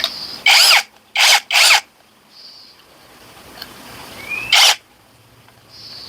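A 16-volt two-in-one cordless drill/screwdriver with a detachable head whirs in short bursts, three quick runs then a pause and one more, loud and close with quiet gaps between.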